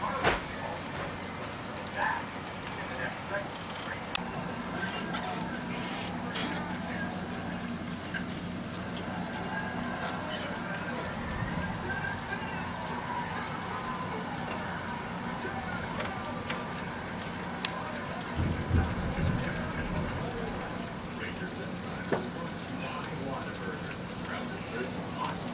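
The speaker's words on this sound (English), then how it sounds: "it's raining again." Rain pours down in a dense, continuous wash for over twenty seconds, with occasional low thumps and soft patters mixed into the steady downpour.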